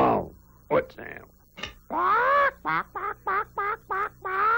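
A voice squawks and clucks in an imitation of a chicken, a drawn-out squawk followed by a quick run of short, evenly spaced clucks, close and loud, after brief talk.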